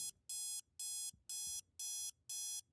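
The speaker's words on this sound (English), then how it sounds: "I hate this noise. It sounds like my alarm clock." An electronic alarm in the video game malViolence beeps like an alarm clock, six loud, evenly spaced high-pitched pulses repeating in a steady rhythm with quiet gaps between them.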